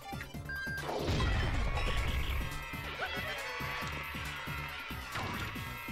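Quake Hammer attack in the Paper Mario: The Thousand-Year Door video game: a heavy crashing smash followed by rumbling impacts and rapid rhythmic game effects, loud and continuous with no talking.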